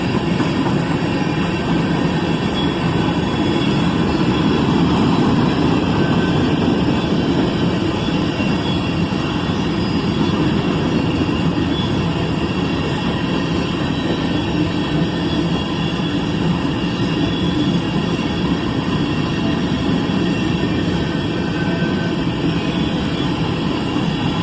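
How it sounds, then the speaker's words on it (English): A long Norfolk Southern freight train, led by Southern heritage unit NS 8099, rolls past with a loud, steady rumble and rattle of cars that holds unbroken throughout. "there goes the end of that monster train"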